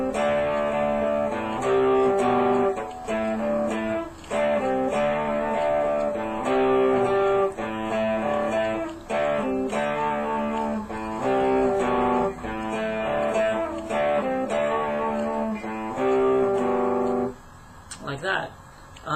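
Electric guitar plays an intro riff, letting the open fifth string ring between rhythmic chord hits, repeated phrases for about seventeen seconds before trailing off.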